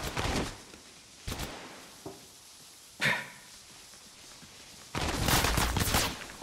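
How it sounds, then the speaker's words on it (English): Gunfire in the mobile battle royale game Apex Legends Mobile: a loud burst opens, then two short isolated shots, another sharp report, and a sustained heavy barrage over the final second and a half. "Opening fire."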